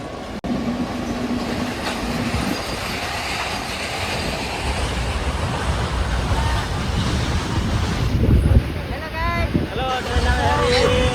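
A goods train rumbles past the closed Chitrod railway station level crossing, a steady loud rolling roar with metallic squeals, while people talk nearby.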